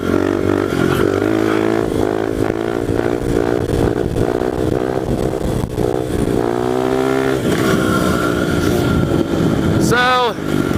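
A pit bike's engine roars loudly and continuously during a wheelie ridden without the clutch in a higher gear, its revs rising and falling, then a sharp rev sweep just before the end.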